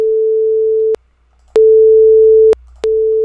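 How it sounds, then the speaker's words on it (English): A pure, steady sine-wave tone at half amplitude sounding in on-off bursts with short silences between, clean and moderately loud. "first one is actually sinusoid divided by 2"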